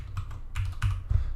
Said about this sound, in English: I'm gonna type in blah blah blah